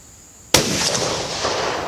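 A single loud, close rifle shot from a Ruger .450 Bushmaster firing Winchester ammunition outdoors, a sharp blast followed by a long rolling echo that fades slowly.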